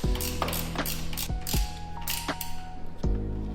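Rapid ratcheting clicks while a bolt and nut are tightened with 13 and 14 mm spanners during assembly of a FunBikes Viper 125, a steady metallic clatter with sharper knocks, no talking.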